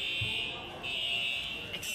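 A fire alarm sounds continuously with a steady high-pitched electronic tone that holds throughout, a constant piercing buzz in an indoor space with faint background noise.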